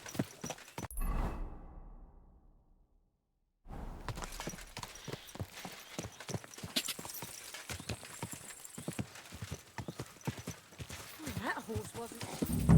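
A horse's hooves clip-clop steadily in the video game Kingdom Come. A whinny and a brief rush open the passage, then comes a short silent gap, and the hoofbeats resume loud and close with rustling movement.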